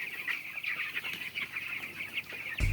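Sixteen-day-old broiler chickens on a poultry farm, feeding and drinking, keep up a constant chorus of faint high chirping and clucking from a flock, with a brief low thump right at the end.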